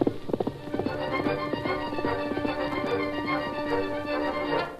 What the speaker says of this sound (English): The steady pound of hoofs sustained throughout the hours of darkness.